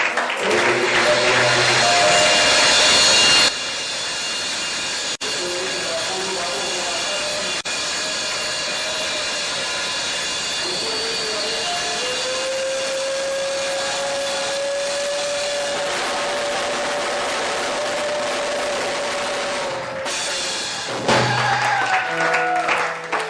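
Church congregation applauding and cheering to acclaim the Lord during a Sunday service, a loud sustained wash of clapping and voices that runs the whole time, with a high sustained tone rising through the middle.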